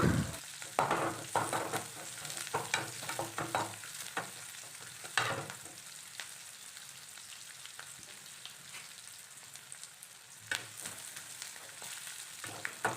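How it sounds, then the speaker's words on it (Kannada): Mustard seeds, green chili and onion fry in a little oil in a pan, a steady close sizzle with crackles and scraping stirring throughout, no voices. "ಇವಾಗ ನಾನು ಇಲ್ಲಿ ಸಾಸಿವೆ ಹಸಿಮೆಣಸಿನ್ಕಾಯಿ ಹಾಗೆಯೇ ಈರುಳ್ಳಿ ಹಾಕ್ಕೊಂಡು ಫ್ರೈ ಮಾಡ್ಕೊತಾ ಇದ್ದೀನಿ ಸ್ವಲ್ಪ ಎಣ್ಣೆಯಲ್ಲಿ"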